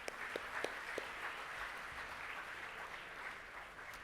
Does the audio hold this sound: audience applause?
yes